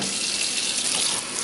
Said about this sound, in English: Rinse the chickpeas in cold water so they don't froth.